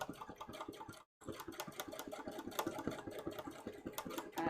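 Domestic sewing machine stitching free-motion embroidery on a cosplay costume piece, a close, steady rapid needle clatter that stops briefly and then resumes at the same pace.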